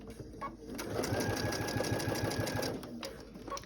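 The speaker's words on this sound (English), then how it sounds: "I am going to run this again using a 1/4 inch seam allowance." A sewing machine stitches quilt triangles with a quarter-inch seam, running in a fast, even rattle for about two seconds close by before stopping, with small handling noises on either side.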